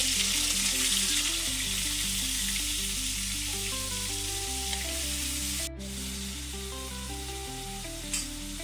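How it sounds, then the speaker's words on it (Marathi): Onion and tomato fry in a pan for cluster beans masala (gavar masala), giving a steady, loud, close sizzle throughout, with a brief scrape of stirring and a light clink near the end. "कांदा झालेला आहे, मी टोमॅटो टाकते."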